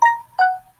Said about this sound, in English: excuse my cell phone going off